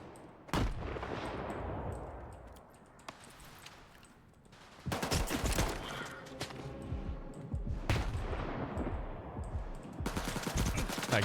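Bursts of automatic gunfire from a firefight in S.T.A.L.K.E.R. 2: Heart of Chornobyl, loud, close sustained volleys broken by a quieter stretch, with dense rattling fire returning in the latter half.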